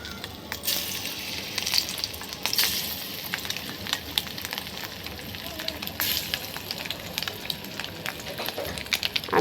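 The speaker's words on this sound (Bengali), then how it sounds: "ডিমগুলোকে সুন্দর করে ভেজে নিব।" Quail eggs frying in hot oil in a pan, a steady crackling sizzle with sharp spattering pops throughout, fairly close and without talk.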